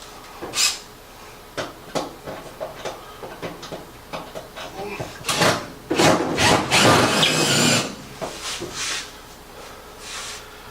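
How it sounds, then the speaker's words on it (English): Screws are driven into a wall-mounted cleat to hang a stainless recirculating range hood, with short rasping bursts and scraping at close range, building to a longer dense run of grinding and rubbing. "we got 2 screws into the mounting cleat, essentially"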